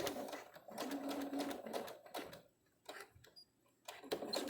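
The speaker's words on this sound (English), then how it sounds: "we're going to stitch all the way to the end" A sewing machine stitches along a folded fabric face mask with elastic held in place, its rapid mechanical chatter running in bursts with short pauses between runs, fairly close and moderate in level, with no talking.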